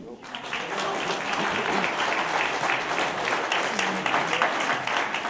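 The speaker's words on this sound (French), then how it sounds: "je vous demande de l'applaudir" Audience applause at a 2012 podium award ceremony, dense, steady clapping from a crowd sustained throughout, with some voices mixed in beneath.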